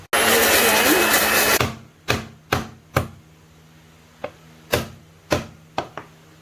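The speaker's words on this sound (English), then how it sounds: "I will blend all the ingredients." Blender whirring through ginger, galangal, chili and coriander seed, a loud grinding buzz for about a second and a half, followed by a series of sharp knocks and clunks of the jar.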